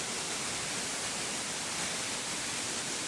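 A forest waterfall pours in a loud, steady, broadband rush with no breaks, close and unchanging throughout.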